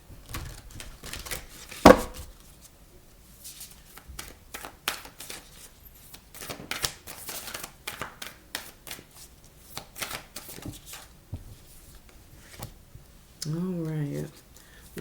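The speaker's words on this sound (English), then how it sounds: "I'm going to pull from this Moonology deck" Oracle cards from a Moonology deck are shuffled near the mic in a run of quick, irregular riffling taps and flicks, with brief spoken remarks over the shuffling.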